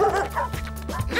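Cartoon dogs bark and yip in quick, excited bursts, several high yelps overlapping in a lively animated scene.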